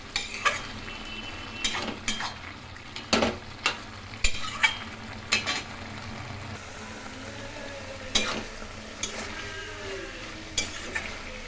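Betho greens stir-fry in a pan over a high flame, a low steady sizzle punctuated by frequent scraping knocks of a spatula against the pan.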